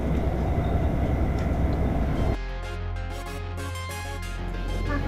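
A train rumbles steadily along the rails, loud and continuous, the noise dropping to a lower hum partway through before swelling again.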